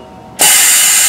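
A Ravenox rope clamp machine pressing a metal rope clamp onto rope, heard as a sudden loud, sustained hissing burst that starts after a quiet moment and holds steady to the end.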